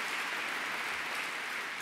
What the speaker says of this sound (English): just give a cheer to them as well